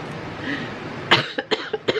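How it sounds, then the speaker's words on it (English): A woman coughs in a short burst of several dry coughs, close and fairly quiet, after a moment of low room noise. "I cannot stop coughing."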